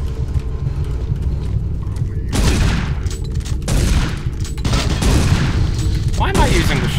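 Shotgun blasts in a 2004-era video game, several loud, heavy bursts a second or so apart, with a voice talking in the stretch before them.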